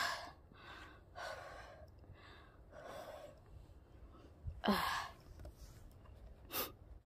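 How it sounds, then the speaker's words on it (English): Someone out of breath after a hike pants in a series of heavy, audible breaths, close to the microphone, with a sharper gasp near the end and quiet outdoor ambience between breaths. "I'm out of breath"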